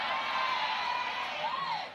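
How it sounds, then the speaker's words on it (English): Partisan home crowd in Kenya on its feet cheering at a women's rugby sevens cup final against South Africa, a steady roar of many voices with shrill whoops rising above it, loud and sustained. "partisan home crowd here, up on their feet early on in these early exchanges"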